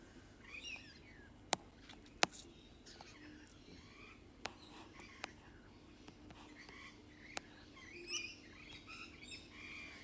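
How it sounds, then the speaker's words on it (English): Faint birdsong chirps scattered across a quiet outdoor background, with a few sharp clicks and soft rustling throughout. "Now I can hear these birds even more."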